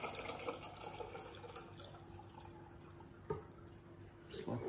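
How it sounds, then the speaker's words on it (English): Kombucha starter liquid, saved from the previous batch of tea, is tipped into a vessel with a steady pouring and splashing wash of liquid running for several seconds, close up and fairly loud. "You tip the liquid in."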